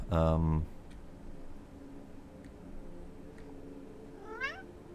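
A cat lets out a loud, close meow right at the start, then gives a shorter, fainter rising meow near the end after a quiet stretch.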